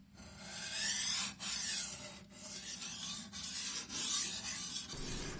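A Shun chef's knife drawn across a 1000 grit waterstone gives a steady wet rasping scrape in long strokes, each broken by a short pause as the blade resets, close and fairly loud with no talking.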